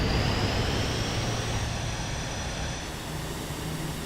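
Tail thrust reverser of an L-1011 TriStar landing at night in a flight simulator, a loud, steady rushing roar that eases slightly as the jet slows.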